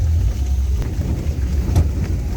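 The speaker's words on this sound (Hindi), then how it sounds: "अभी भी फ़िलहाल बारिश जारी है जी।" Heavy rain during a storm on Shakhaki Road, with rainwater running across the road surface toward a bridge, giving a steady, dense wash of rain and flowing water throughout.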